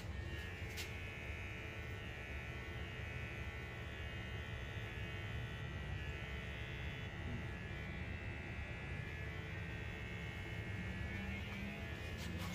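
Electric hair clippers run through a haircut between friends, buzzing as a constant, fairly faint hum for the whole stretch, with no talk over it.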